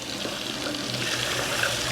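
Warm water pouring steadily from a kitchen tap into a cup while making pizza dough, a close, continuous splashing hiss with no talk.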